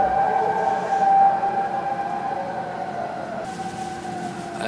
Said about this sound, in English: That was really loud siren